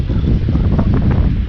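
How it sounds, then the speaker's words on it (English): Wind blows hard through oak trees swaying over a house, a loud, steady rushing roar with some rustling, heavily buffeting the microphone. "The oaks over the house are just swaying in the wind."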